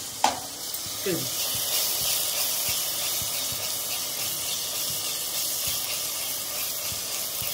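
Garlic fries crisply in hot oil, giving off a steady, bright sizzle and hiss close by, with a few soft stirring scrapes near the start.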